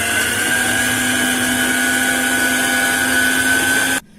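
Cookie dough being mixed with an electric mixer while flour is added, a loud steady motor whine running evenly close by, then cutting off abruptly near the end.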